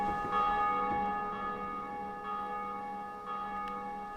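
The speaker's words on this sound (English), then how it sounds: "Bobby, what happens after you ring a bell in a Dark Souls game" A bell tolls in the video game Dark Souls 2, its long ringing overtones sustained and slowly fading across several seconds, struck again faintly partway through, with no talk over it.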